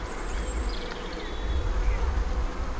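Honeybees hum in a dense, steady drone at a hive colony held in a nuc box, a close, continuous buzz with a few individual bees whining past.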